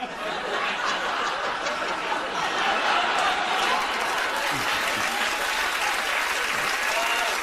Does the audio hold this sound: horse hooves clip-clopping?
no